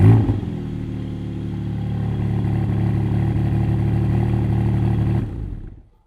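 Porsche Spyder engine catches with a loud burst, then settles into a steady, deep idle for about five seconds before cutting off and fading to silence, close up with no voices.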